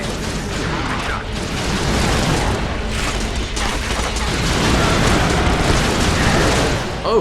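Auger gun firing in the Resistance game, a dense barrage of heavy booming shots and bursts over several seconds, loud and continuous amid explosion-like rumble.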